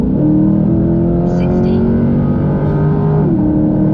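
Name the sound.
sports car engine revving loudly with ported intake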